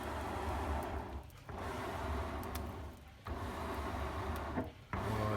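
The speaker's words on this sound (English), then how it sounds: "we're going to give it a good old crank" A homemade box bellows being cranked, giving a steady whirring, rumbling hum in repeated strokes of about one to two seconds, each separated by a brief dip in sound.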